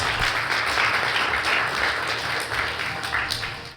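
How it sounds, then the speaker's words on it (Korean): Audience at a Seoul youth digital mental health forum applauding to welcome a speaker, a continuous broad clapping that stays loud and steady, then eases slightly toward the end. "박수로 환영해 주시면 감사하겠습니다"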